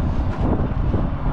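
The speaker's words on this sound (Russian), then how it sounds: "Ветер дует." Wind blows steadily outdoors in minus-eight cold near a fuel station, a continuous low rumbling buffet with no talk over it.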